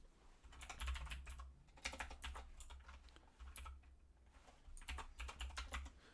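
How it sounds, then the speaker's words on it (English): Computer keyboard keys clatter in quick bursts of clicks with short pauses between, close-miked and fairly quiet, with no talk over them. "this clicking is going to be maybe annoying if I'm recording stuff"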